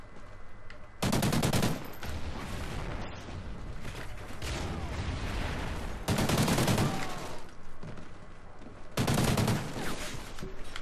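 Bursts of rapid automatic gunfire in a shooter game erupt in three loud, short volleys, separated by quieter stretches of background game noise.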